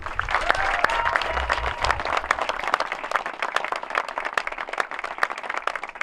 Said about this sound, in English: Please join me in a round of applause for the leadership and staff of the Career Pathways program for a job well done